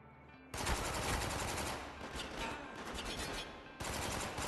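Dense automatic gunfire and sustained bursts in the video game Spec Ops: The Line, loud and continuous for about three seconds after a brief quiet lead-in, then resuming at full intensity.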